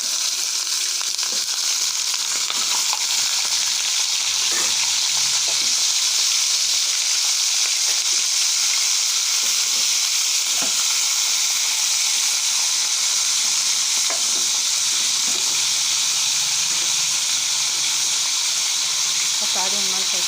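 Chicken pieces fry in a little hot oil in a pan, giving a steady close sizzle with bright hiss and occasional crackles and stirring clatter that run unbroken for about twenty seconds.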